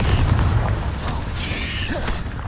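A Confringo spell explosion from Hogwarts Legacy on PC: a booming burst with crackling, mechanical debris clatter that fades over a couple of seconds, heard alone.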